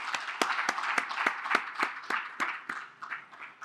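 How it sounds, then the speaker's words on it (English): An audience at a conference session on natural capital data and biodiversity claps steadily. The applause is sparse and close, with distinct individual claps standing out from a moderate, even wash of hand-clapping. "A round of applause, and thank you very much."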